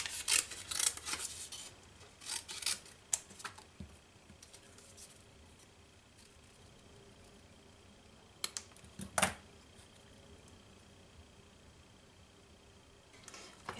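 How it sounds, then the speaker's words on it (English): Scissors snipping embossed paper while fussy cutting a small ice cream cone shape, scattered soft close crunches and rasps in short bursts separated by quiet pauses, no talk. "I'm going to take my scissors and just cut it out."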